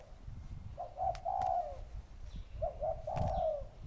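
Two cooing phrases from a white-headed pigeon kept for chasing, each a soft, throaty rolling coo close by, over a low rumbling background.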